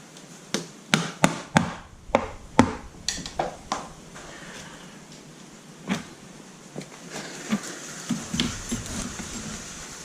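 Repeated rubber hammer blows on a stuck part of a Honda VT250FL (Spada) motorcycle during clutch replacement, a burst of sharp, close knocks early on, then scattered single strikes at irregular intervals.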